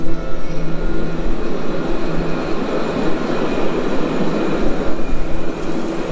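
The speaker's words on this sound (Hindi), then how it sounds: "तो इस तरह की एक ट्राम में बैठ के जाने वाला हूँ।" A tram in Israel running on rails, heard from on board as a loud, steady rumble of wheels and motor with a low hum throughout, swelling slightly in places.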